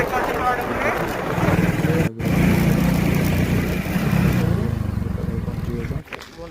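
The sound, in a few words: motorcycle engine while parking the bike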